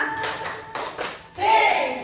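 Several sharp hand claps in a quick rhythmic burst in a classroom, with children's voices chanting counts along in Indonesian in the background.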